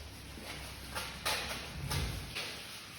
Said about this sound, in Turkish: Üstündeki naylonu soymaya başlıyoruz.